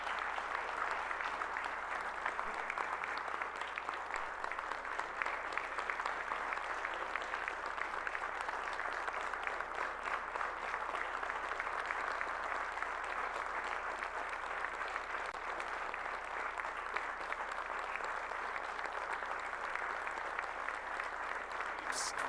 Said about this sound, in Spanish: un minuto de aplausos